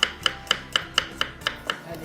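Garlic cloves chopped with a knife on a cutting board in a home kitchen, eight crisp evenly spaced taps at a quick steady rhythm, close and clear with no talking.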